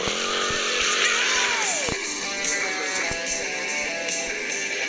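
Motorcycle engine in GTA Vice City, a loud buzzing whine that falls in pitch as it shifts gears, with a few sharp game-effect clicks and thuds over a steady engine drone.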